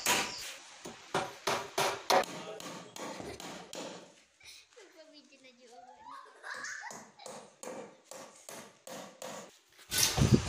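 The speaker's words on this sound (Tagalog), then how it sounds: "linagyan ko siya ng pako sa kabilang side, magkabilang side at sa taas" Steady, sharp hammer blows drive nails into a wooden door jamb, striking in quick regular runs with a short break in the middle before the blows resume loudly near the end.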